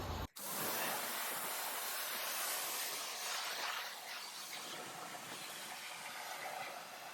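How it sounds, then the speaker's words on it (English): A pressure washer sprays car wheels to blast off brake dust and muck, a loud, steady close-up hiss that starts abruptly after a brief click and continues unbroken to the end. "we'll just hit them first with the pressure washer, get rid of the worst of that brake dust and the muck"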